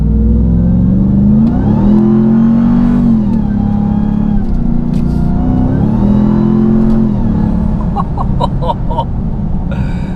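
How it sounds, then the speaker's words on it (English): A supercharged 702 hp Ram TRX pickup revs hard on back roads, a loud engine roar rising and falling through two big pulls with a high supercharger whine riding on top, followed by some clicking near the end. "you can hear the supercharger whine"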